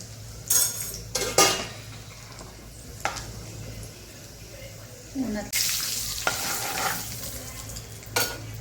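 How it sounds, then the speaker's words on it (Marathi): Cloves, black pepper, curry leaves and turmeric hitting hot oil for a chickpea curry, bursts of sharp sizzling between metal spoon and pan clatter, close and fairly loud. "आता ही लवंगा मिऱ्या त्यात टाकून घेऊ आपण थोडासा कढीपत्ता टाकू आणि हळद टाकली"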